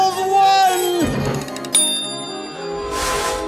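A bell strikes with a sharp metallic ring that hangs and fades over a dense orchestral Christmas soundtrack, from a Muppet Christmas Carol trailer as the bell tolls one.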